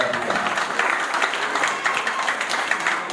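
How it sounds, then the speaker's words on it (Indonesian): Attendees at a reunion of people in their sixties applaud together, a moderately loud, ragged stretch of clapping with uneven bursts that keeps going to the end of the clip. "Tepuk tangan untuk kita."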